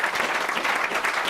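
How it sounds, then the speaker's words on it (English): Audience at a talk with a 38-time world record freediver breaks into steady, dense applause, loud and continuous throughout with no pauses. "Big applause."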